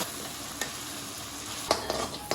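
Onion with a ground paste of coriander, cumin, ginger, onion and garlic fries in hot oil for a fish curry, giving a steady close sizzle broken by a few brief sharp spits and stirring clatters.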